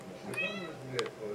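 A cat meows twice at a cat festival, short rising cries heard close over a busy background with people talking.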